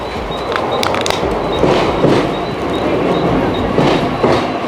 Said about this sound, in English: Seems like my train is coming right here.